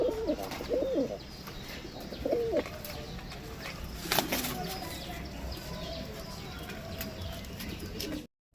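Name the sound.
Rampuri Gazra pigeon cooing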